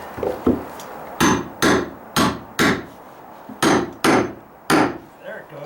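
A hammer strikes plywood subfloor sheets being knocked into place on a dry-rot deck repair, about eight sharp, loud blows spaced unevenly, close up with no talking.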